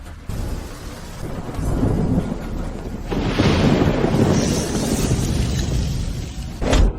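Heavy rain pours steadily while deep thunder rolls and crashes, swelling louder midway and ending in a sharp, close thunderclap.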